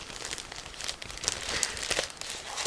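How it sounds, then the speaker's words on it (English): A clear plastic bag holding the assembly manual and extras of an Infinity Models 1/32 SB2C-4 Helldiver kit is opened, with continuous close crinkling and rustling bursts throughout. "I'm trying to open this plastic bag with assembly manual"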